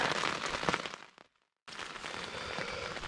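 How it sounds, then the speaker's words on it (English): Steady broadband hiss of rain falling, loud and continuous, broken by a brief moment of near silence before the downpour resumes. "it's definitely raining, as you could hear"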